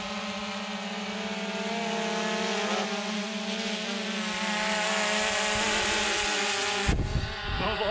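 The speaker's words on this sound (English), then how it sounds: "here comes Billy with his drone." A small drone flies overhead outdoors, its steady buzzing motor drone holding through the whole stretch before an abrupt shift near the end, with no talk.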